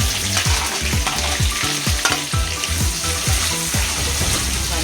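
Onion fries with whole spices in a pan, giving a loud, dense sizzle with rhythmic stirring scrapes throughout, heard up close with no speech.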